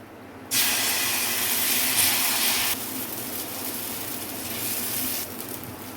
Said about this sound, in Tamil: நல்லா சூடாயிடுச்சு இப்போ நம்ம தோசை ஊற்றிக்கலாம்